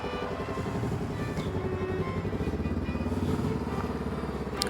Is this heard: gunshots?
no